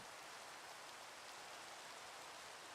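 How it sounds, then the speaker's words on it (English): Steady rain in the video game Minecraft, GregTech: New Horizons modpack, a constant even hiss of falling drops with no other sounds. "I know you don't like the rain."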